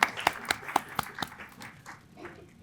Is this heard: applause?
yes